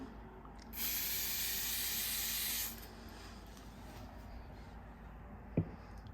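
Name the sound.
aerosol fixative spray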